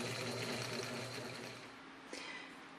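A vintage Singer 99 sewing machine winds a bobbin with a steady, close-up mechanical whir that holds at an even speed, then eases and softens with a small click near the end.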